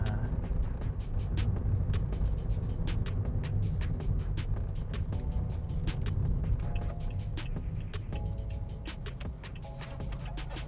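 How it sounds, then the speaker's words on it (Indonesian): A new-generation Toyota Avanza MPV accelerates through the mid-to-upper rev range, giving a steady, close low engine rumble flecked with light clicks and ticks that eases slightly near the end. "dia begitu di putaran menengah ke atas cukup cepat loh ini akselerasinya"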